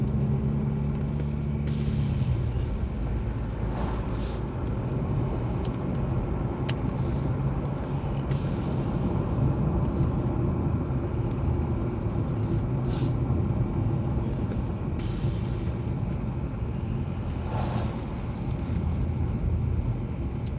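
A car cruising steadily on a residential road past stilt-built houses, with continuous engine and tire rumble from inside the cabin and a few brief clicks and thumps, no talking.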